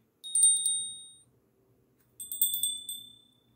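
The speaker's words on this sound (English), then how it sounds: "When you hear the bell ring." Two bursts of bright, high ringing tones, each a quick run of strikes that fades out, separated by a short pause.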